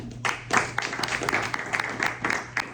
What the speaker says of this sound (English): let's give one more round of applause to Annie Haugen.